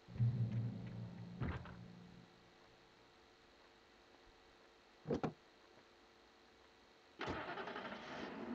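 A Jeep's engine turns over in the video game Alan Wake 2: a brief crank, a short mechanical burst midway, then the engine catches into a steady, fairly loud running noise, with no talking.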